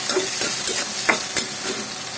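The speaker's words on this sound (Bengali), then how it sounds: "আর এখানে দেখো, এই যে শুটকি আর পেঁয়াজটা একটু ভাজা ভাজা করে নিচ্ছি" Onion and dried lotia fish fry in hot oil in a wok: a loud, continuous close sizzle with the scrape of a spatula stirring every half second or so.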